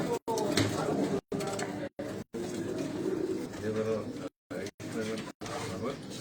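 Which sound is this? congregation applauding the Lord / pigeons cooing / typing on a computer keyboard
pigeons cooing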